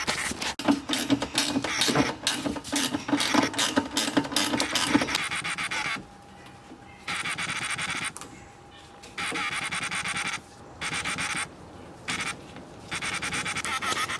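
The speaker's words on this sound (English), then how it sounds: "I'm gonna start by tightening these hose clamps down." Hose clamps being tightened on a cold air intake hose of a Mazda MX-5, quick ratcheting clicks up close at first, then intermittent bursts of whirring driver noise separated by short pauses.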